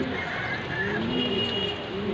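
Racing pigeons of a Johnson bloodline coo in low, steady murmurs, several birds overlapping in a continuous soft warble close by.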